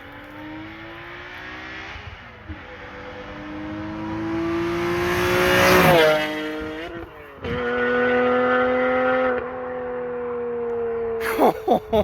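A Nissan 370Z fitted with Z1 Motorsports equal-length headers and an aftermarket valved exhaust builds from a distance into a loud, raspy pass-by that peaks mid-way, dips, then drones on before sharp pops at the end.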